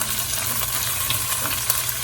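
Steady, crackling sizzle of curried chicken frying in a hot pan with paprika, a continuous bright hiss with small pops scattered throughout.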